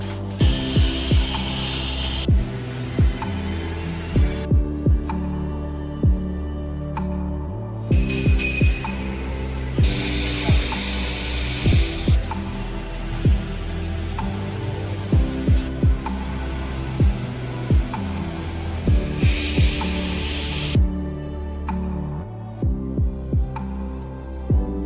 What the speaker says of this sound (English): Introducing today our latest model of riveting machine.